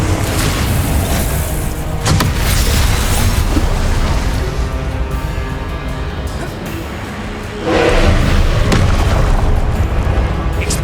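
In Hogwarts Legacy combat, Confringo blasting spells set off heavy booming explosions that pile into a continuous loud roar, with a fresh burst near the end and some voice underneath.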